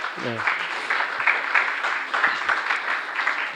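A church congregation claps to welcome a returning visitor, a moderate rolling applause with voices mixed in.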